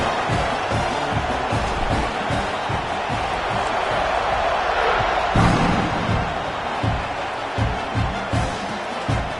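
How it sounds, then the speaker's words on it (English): A stadium crowd in the Madden football video game buzzes steadily after a score, a dense continuous roar with rhythmic thumps and occasional swells, loud and enveloping throughout. "this crowd is buzzing after that last score"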